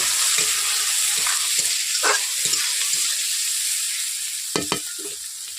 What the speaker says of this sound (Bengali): পেঁয়াজগুলোকে আমি হালকা করে ভেজে নিলাম